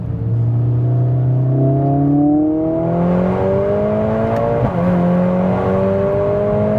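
A 500 bhp Mercedes-AMG A45 S accelerating hard on a wet race track, engine roaring and climbing steadily in pitch with a brief gear change partway through, loud and close from inside the car.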